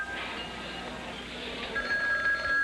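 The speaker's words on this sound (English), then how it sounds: "The telephone rang." Telephone bell ringing in a 1980s cartoon, a steady continuous ring at moderate loudness with a faint voice underneath.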